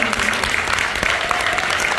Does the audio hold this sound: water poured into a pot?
no